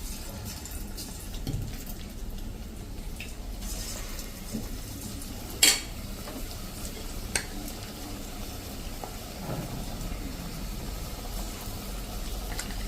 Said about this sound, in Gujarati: આ રીતે જોવો આપણે એકદમ સરસ કોટેડ આપણે દૂધીના પીસ ફ્રાય થઈ ગયા છે